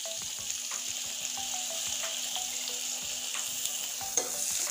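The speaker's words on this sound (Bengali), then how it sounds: "এবার ফোড়নের জন্য রসুন দিয়ে দিচ্ছি থেতো করে রাখা।" Crushed garlic frying in hot oil alongside dried red chilies, a dense continuous sizzle close by with light stirring scrapes scattered throughout, no voices.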